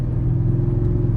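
Steady, smooth low engine rumble from a 1995 BMW 840ci E31 while driving, heard from inside the car as a continuous loud drone with no other sounds.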